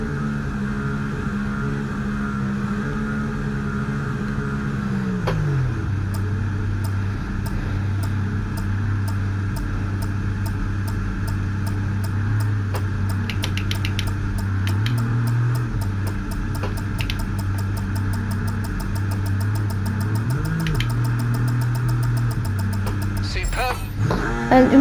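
Race car in the F1 24 video game creeping slowly toward its grid slot at Saudi Arabia's Jeddah circuit, a low steady engine drone that drops in pitch and stays near idle, with occasional small revs and ticking clicks.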